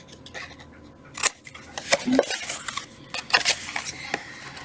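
Scissors snip through a paper cookie-box template along its score lines, giving several short, crisp cuts with light handling rustle between them at close range.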